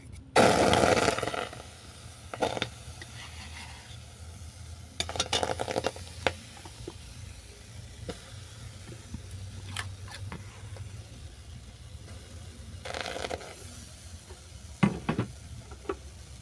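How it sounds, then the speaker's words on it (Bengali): Palm fruit pulp dropped into a hot wok (kadai), giving a loud initial sizzle followed by intermittent scraping stirs and bursts of frying crackle over a low burner roar. "এরপর কড়ার মধ্যে দিয়ে দিচ্ছি তালের কাত।"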